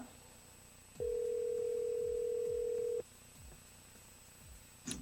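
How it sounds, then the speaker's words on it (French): A telephone rings back during a live radio phone-in: one steady two-second tone over a faint, quiet line. "Voilà, ça sonne déjà."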